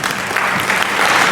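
Loud, dense applause from a seminar audience on sales and personality development, steady clapping close up and sustained throughout.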